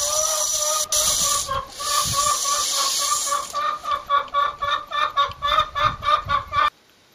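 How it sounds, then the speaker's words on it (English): Backyard chooks cluck steadily in a rapid rhythmic series near the mic, with a hissing background throughout and no talk. "the chooks need an extra tin of wheat"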